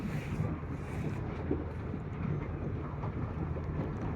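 A chartered boat heads out to sea off Ishigaki Island for a snorkeling trip, giving a steady broadband engine and water rumble with wind buffeting the microphone throughout, no voices.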